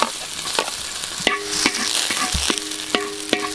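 Garlic frying in a pan, a bright steady sizzle with repeated sharp clinks and scrapes of a utensil stirring against the metal, close and fairly quiet, with no talking.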